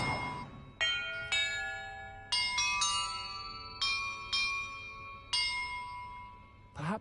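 Bells are struck one after another in Hogwarts Legacy, each bright metallic strike ringing out and decaying in an uneven sequence of about nine tones.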